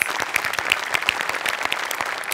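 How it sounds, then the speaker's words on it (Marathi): A studio audience at a Marathi comedy show breaks into dense, lively applause, many hands clapping fast and evenly at close range. "चेतना तुझ्यासाठी विशेष टाळ्या."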